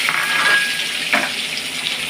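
Mustard seeds, cumin and onion fry in hot oil for sambar, a steady close sizzling hiss throughout with one brief crackle or stir about halfway, and no voices.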